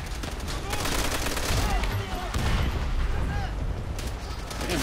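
Submachine gun bursts in Call of Duty: World at War rattle in rapid, dense volleys, loud and continuous, with occasional heavier booms and mechanical clatter mixed through a busy battlefield din.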